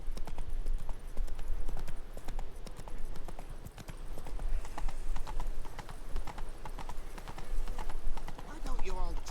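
A horse's hooves clip-clop in a quick steady rhythm across a bridge in Witcher 3: Blood and Wine, close and loud, with an occasional whinny and someone talking over it.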